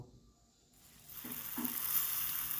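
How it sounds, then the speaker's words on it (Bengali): Spices sizzling in a pan for katla fish curry with flat beans, starting near silent and then rising into a steady close frying hiss, with a couple of soft stirring scrapes as the masala is moved around. "এবার নেড়ে চেড়ে আর একটু আমি কষিয়ে নেব"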